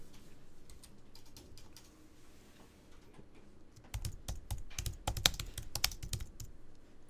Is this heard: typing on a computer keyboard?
yes